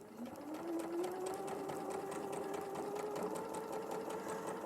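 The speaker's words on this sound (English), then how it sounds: "sew along this, this bias edge, and this will give me the last square that I need for this third row" A sewing machine stitches along the bias edge of a quilt. Its fast, steady mechanical whirr and rhythmic needle ticking run throughout, close and continuous, with faint talk underneath.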